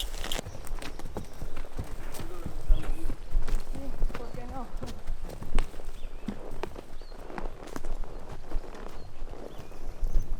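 Horses' hooves clopping at a walking pace on a trail around Lake Paimún in Lanín National Park, Argentina, under continuous talking, with rustling and outdoor background noise.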